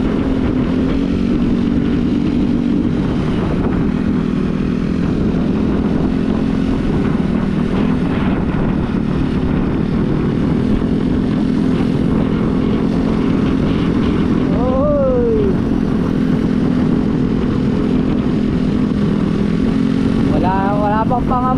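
A steady engine drone runs throughout, like motorbikes rolling by nearby, with a couple of brief higher-pitched whines and voices mixed in.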